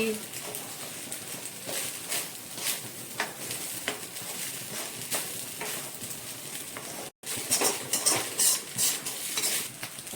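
A spoon scrapes and stirs capsicum rice in a pan, steady clinking and scraping strokes with faint sizzling, while a person talks over it.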